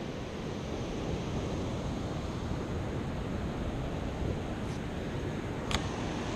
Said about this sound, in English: these are big waves.